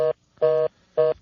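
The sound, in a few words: telephone dialing on an inter-office phone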